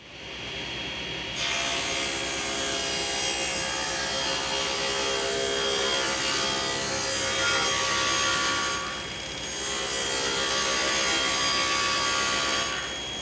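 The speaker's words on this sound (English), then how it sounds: "So table saw first, then the miter saw." Table saw and miter saw cutting cedar boards for a garden potting bench, a loud steady saw whine running almost without break, briefly dipping once partway through, with no talk.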